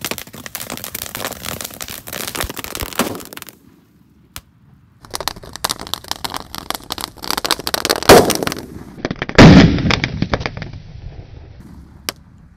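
A paper-wrapped size 1.5 Roman candle firecracker bursts in rapid crackling, loud and close, with a short pause, then more popping and a few sharp final bangs.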